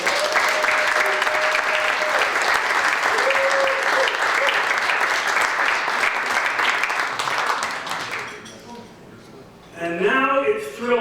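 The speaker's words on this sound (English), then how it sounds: "Let's give them one last round of applause." Sustained audience applause for major sporting award recipients at an Indigenous sports excellence ceremony, loud and steady for about eight seconds with a brief tone underneath, then fading as a voice begins speaking over the dying claps.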